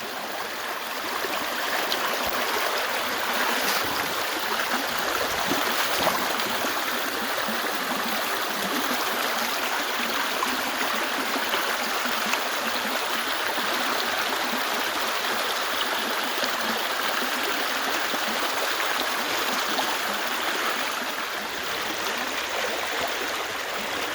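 A swollen creek running high after a whole day of heavy rain, its broad steady rush of water filling the scene at close range, continuous and loud with no pauses or voices.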